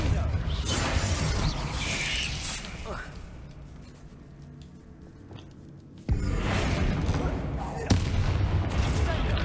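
Spell-casting blasts and impacts from the video game Hogwarts Legacy, with loud booming bursts and crackling hits in rapid succession, dipping briefly in the middle before two sharp new blasts near the end.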